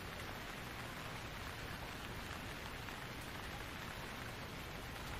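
Light rain falls in a soft, even hiss that stays faint and constant throughout, with no voices.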